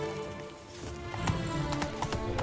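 Hoofbeats of Geralt's horse Roach in Witcher 3, rapid clip-clop galloping with faint neighing under game music, fairly close.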